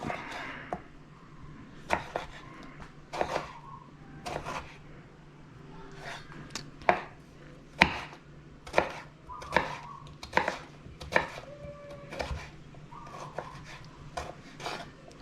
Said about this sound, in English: Tomatoes, I like dicing them up.